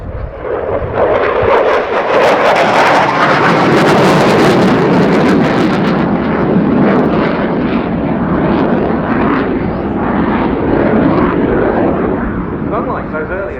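A Saab Gripen fighter jet roars past at the RIAT 2019 airshow. The loud, sustained jet noise surges and fades slowly across the whole pass, with wind buffeting the microphone.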